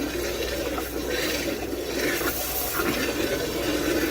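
Water runs steadily from a tap, a constant rushing hiss with no pauses, beside a saltwater aquarium.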